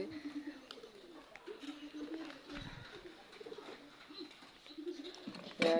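Pigeons perched on a roof coo softly in low, repeated phrases, fairly faint and near, with a brief louder noise at the very end.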